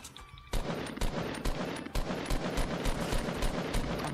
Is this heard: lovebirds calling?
no